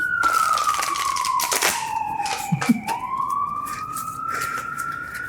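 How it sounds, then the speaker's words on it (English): An emergency siren wails in long, slow falling and rising sweeps at a moderate distance, with scattered clicks and taps close by and no voices. "get the sirens going"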